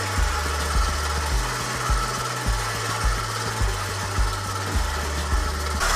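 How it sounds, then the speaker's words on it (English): An electric hand mixer runs on low, beating butter with powdered sugar and cocoa for chocolate frosting, a steady mid-loud motor drone with rhythmic bumps and knocks as the beaters hit the bowl, no talking. "Your mixer on low, go ahead and add your powdered sugar gradually and your cocoa powder"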